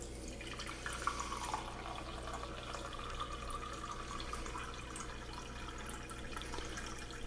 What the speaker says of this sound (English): we're going to get 1 cup of water right up to this line right up here